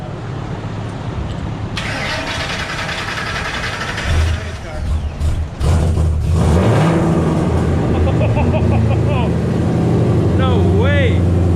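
A Ford SVT Cobra Terminator engine cranks and fires up in a shop during a clutch job, then settles into a loud rumbling idle with revs, close by, with people talking over it.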